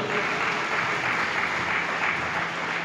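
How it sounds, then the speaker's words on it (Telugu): Audience at a Christmas celebration in Nizamabad Rural clapping loudly, a dense, steady wash of applause that fills the whole stretch without pause. "ఒకసారి అందరం గట్టిగా చప్పట్లు కొడదాం"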